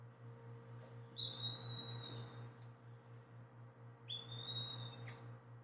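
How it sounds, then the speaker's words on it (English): A broad-winged hawk, a forest species, gives two high thin whistled calls about three seconds apart, clear over a steady pulsing insect drone in a quiet natural setting. "This is a broad-winged hawk. This is a forest species that's actually quite common in the surrounding highlands."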